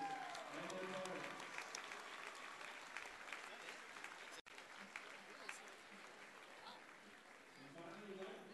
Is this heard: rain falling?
no